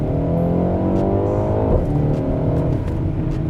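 A 2023 BMW M235i in sport mode accelerates hard, its engine a loud, steady rising drone heard from inside the car, with a slight dip partway as the transmission shifts.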